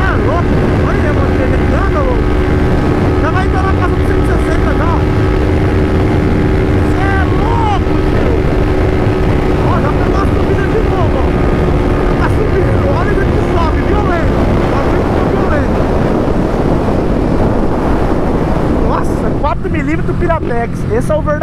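A modified Honda Fan 160 motorcycle engine revs hard and loud close by, a dense, steady roar with rising and falling pitch sweeps that eases off near the end.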